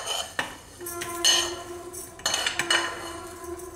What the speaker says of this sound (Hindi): तो अभी मिक्सी के पॉट में ये सारी चीज़ें डाल देंगे।